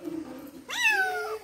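A single cat meows once, a clear rising then falling cry at close range after a brief quiet hum.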